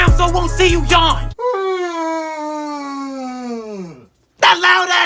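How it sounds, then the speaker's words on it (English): A long, loud yawn from a stick-figure animation character, a single drawn-out groaning voice that slides downward in pitch for about three seconds, with other voice sounds just before and after. "That loud ass yawn!"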